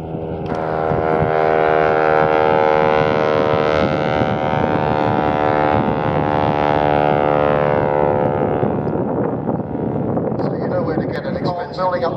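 A propeller aircraft engine at an air festival roars loudly and steadily, its droning pitch rising as it throttles up and stays constant throughout.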